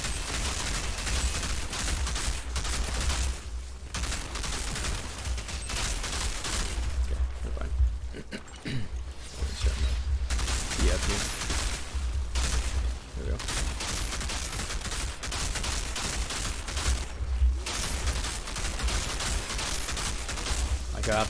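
Weapons fire in the game Outriders during a Technomancer expedition: dense, loud bursts of rapid shots repeat almost continuously, broken by a few brief pauses.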